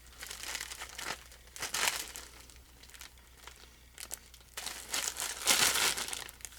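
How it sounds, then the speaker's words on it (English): Crinkly plastic packaging being cut open with a blade, producing bursts of crackling and crumpling rustle that rise and fall, close up and fairly loud, with no talking. "I'm trying not to cut the contents of the packaging."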